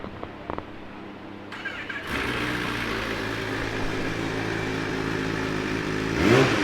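A 2015 Kawasaki ZX10R ABS 30th Anniversary sportbike cranks briefly and fires up, then settles into a steady, loud idle, with a short blip of revs near the end.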